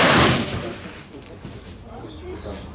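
Rifle shots at a 100-metre shooting competition at a shooting range, a loud sharp report at the start followed by fainter distant shots, with people talking.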